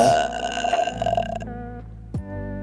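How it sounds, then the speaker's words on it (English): A long, loud, drawn-out burp close to the mic that fades into a second shorter one, with no talking over it. "She can burp if she wants to."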